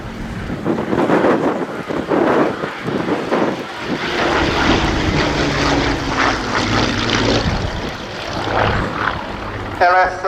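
A Hawker Hurricane propeller aircraft flies past at the RIAT 2016 airshow, a continuous droning engine roar rising and fading with heavy wind buffeting on the microphone and voices talking over it.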